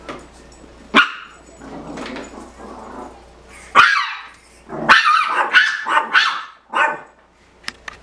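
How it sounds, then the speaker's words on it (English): Several loud, close dog barks come in bursts with pauses between, mixed with whiny yelps and a low growl. "before I got interrupted by a bunch of barking"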